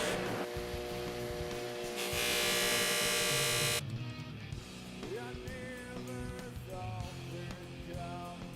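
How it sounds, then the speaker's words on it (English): A polishing wheel buffs metal lowering blocks to a mirror finish after sanding to 1500 grit, giving a steady close motor whine that surges brighter and louder midway, then settles into a rougher whirring hum. "we used a polishing wheel to give them a mirror finish"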